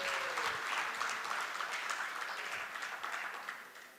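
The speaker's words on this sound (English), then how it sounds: "Big round of applause." An audience at the Enjay ASIRT Synergy 2025 event at Gateway Resort, Nashik gives a warm round of applause, a dense, steady wash of clapping that is fairly distant and gently fades toward the end.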